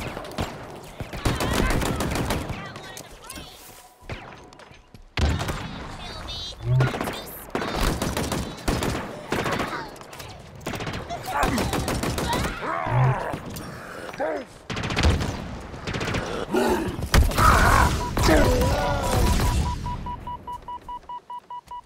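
Bursts of rapid automatic gunfire and explosions from the video game Halo Infinite come in dense clusters separated by short pauses, loud and close, with occasional beeping game tones.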